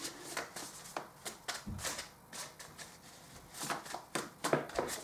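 Tarot cards being shuffled by hand, a quiet, busy run of papery riffles and slaps that come in uneven bursts over a few seconds, close to the microphone with no voice.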